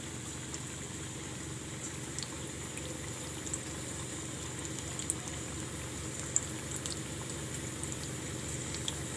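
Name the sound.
Kabuli roll frying in hot oil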